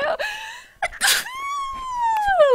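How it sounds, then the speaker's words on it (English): A girl's single loud sneeze preceded by a sharp gasping inhale, followed by a long, drawn-out wavering vocal tone that trails off. "Oh, no, I'm gonna sneeze."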